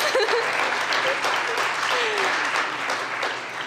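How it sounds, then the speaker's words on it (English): Audience applause at a university club event fills the room, dense steady clapping from a crowd for the club team and its presidents, with a few voices calling out over it at the start. "I want to give a round of applause to our team, to our presidents and the other vice presidents."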